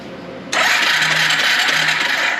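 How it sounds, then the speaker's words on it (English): Electric starter cranking the engine of a long-dormant Suzuki four-wheeler: a loud, steady whirring grind that kicks in abruptly and runs continuously, close up, with no voices. "So let's see if our electric start works."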